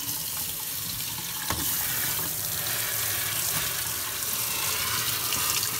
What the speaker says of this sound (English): Rinse out the screen.